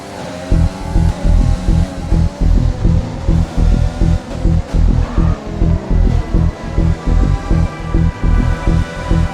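An F1 racing car in F1 2020 pulling away on track at Zandvoort, engine droning loud and close with a pulsing, throbbing rhythm of repeated surges.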